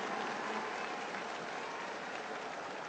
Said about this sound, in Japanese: 大きな歓声です。